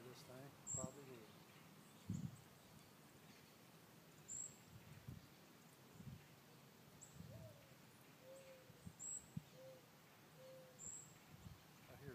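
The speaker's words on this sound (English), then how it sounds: "I hear doves out there cooing away." Doves give soft, low cooing calls that repeat in the distance against a quiet outdoor background with scattered light patters and rustles.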